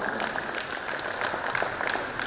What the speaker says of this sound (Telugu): ఇంత మంచి మాటలు చెప్పినందుకు ఒకసారి గట్టిగా చప్పట్లు కొట్టాలి.